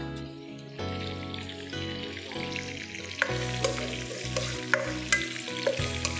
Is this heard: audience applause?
no